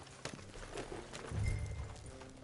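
Horse hooves clip-clopping on the ground in Red Dead Redemption 2, a muffled, uneven trot under a low rumbling background with scattered thuds.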